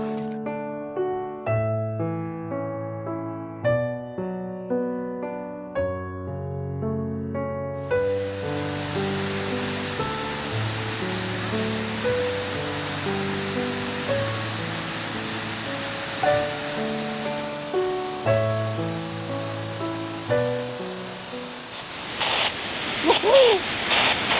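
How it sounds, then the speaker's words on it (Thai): Haew Suwat waterfall in Khao Yai in the rainy season, running full: a steady broadband rush of water comes in partway through and continues beneath melodic background music. "อยู่ที่น้ำตกเหวสุวรรณครับ ซึ่งมีความสวยงามมากนะครับในฤดูฝนนะครับ จะมีน้ำที่ เต็ม ที่เลยครับ"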